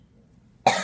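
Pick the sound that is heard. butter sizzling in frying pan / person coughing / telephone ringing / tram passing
person coughing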